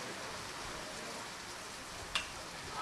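Steady rain falls on a high school baseball field during a Dripping Springs Tigers game, a continuous broadband hiss with no talk and one brief sharp tick near the end.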